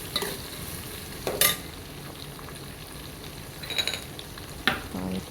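Garlic sizzles softly in a hot pan under a steady frying hiss, with a few sharp spoon clinks and scrapes against the pan at intervals.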